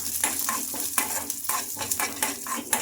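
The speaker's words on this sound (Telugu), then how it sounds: "ఇప్పుడు ఇవి ఈ పప్పులన్నీ మనకు బాగా ఫ్రై అయిపోవాలి" Chana dal, urad dal, cumin and unpeeled garlic cloves fry in hot oil, a close sizzle broken by rhythmic scraping strokes of a spoon stirring the pan roughly every half second.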